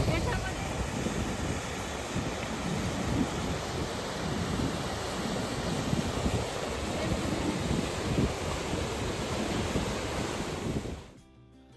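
A river swollen by spring snowmelt surges in a loud, continuous roar of rushing water that holds steady for several seconds before cutting off abruptly.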